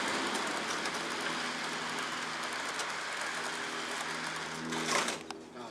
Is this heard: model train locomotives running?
yes